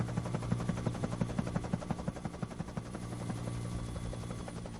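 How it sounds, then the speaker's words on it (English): A helicopter's rotor thumps steadily and continuously, a loud rhythmic chopping throughout with no voices. "It's Harold the helicopter."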